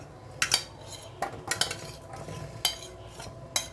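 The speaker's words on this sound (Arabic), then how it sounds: "هنجيب بقى عندي هنا البطاطس بتاعتي، انزلها بقى كده." Potatoes go into an oiled metal baking tray with a few sharp knocks and scrapes against the pan, heard close and spaced irregularly over a low background hum.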